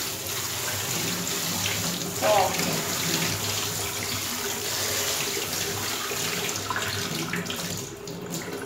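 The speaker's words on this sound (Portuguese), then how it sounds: "Eu já jogo uma água fria, porque daí ela já vai esfriar e não vai cozinhar o nosso tomate." Cold tap water poured over zucchini in a perforated colander to drain, a steady broadband rush of running water filling the whole clip at close range, with a brief louder splash partway through.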